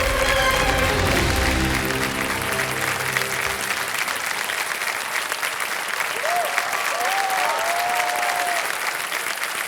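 Studio audience on the KBC television game show breaking into sustained applause, loud and dense clapping that fills the room, with a host's voice briefly rising over it near the end.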